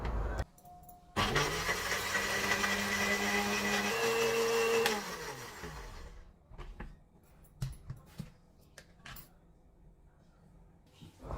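A kitchen blender whirs loudly for about four seconds as it purees soaked cashews with yogurt, then winds down, leaving faint clinks and handling noises.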